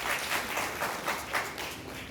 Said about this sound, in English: round of applause for Trudy